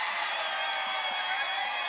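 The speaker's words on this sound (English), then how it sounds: "And you can hear the crowd cheering too." Crowd noise at a college softball game between Iowa and Nebraska fills the whole two seconds, a dense roar of cheering, whoops and shouts with a louder burst right at the end.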